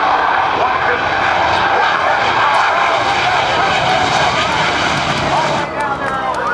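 Bill Leff's airplane races the Super Shockwave jet truck at the NAS Oceana airshow, its engine roaring loud and steady throughout while an announcer talks over it.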